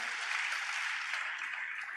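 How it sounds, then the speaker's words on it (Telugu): A church congregation claps during a pastor's sermon, a continuous wash of many hands heard faint and somewhat distant, steady without breaks. "చప్పట్లు కొడుతూ స్తోత్రాలు చెప్దాం"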